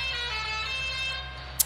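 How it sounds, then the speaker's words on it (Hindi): Horn of a Red Fire 855 FE tractor in Farming Simulator 19, a sustained, steady, close tone held for just over a second and then fading. "ये हॉर्न भी बहुत बढ़िया है"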